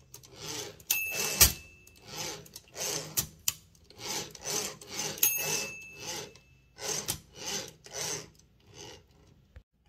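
Carriage of a Torpedo 18B typewriter, fixed for a loud rattle, pulled back with the silent return engaged: repeated rasping slides with a few bright dings and knocks, close and fairly steady, no voices.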